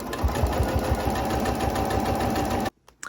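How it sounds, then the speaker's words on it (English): A sewing machine stitches along the edge of a fabric winter cape, whirring steadily with a fast rhythmic knock close up, then stops abruptly near the end, leaving near silence. "creating a stitch line just at the edge so that the seam allowance will stay pressed down once the garment is assembled"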